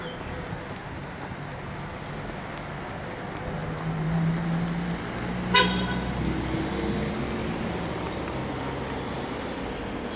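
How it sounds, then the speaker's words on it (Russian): Distant traffic hum in a town on Tenerife, Spain, with a car horn tooting briefly a couple of times, faint and far off, no voices. "Сигналят."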